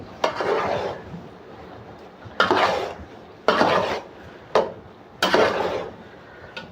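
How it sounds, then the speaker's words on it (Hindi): Beef keema macaroni being mixed in a pan, with five bursts of scraping and clattering utensil strokes at a steady, unhurried rhythm, close and fairly loud, separated by brief quiet gaps. "अब हम इसको अच्छी तरह मिक्स करेंगे।"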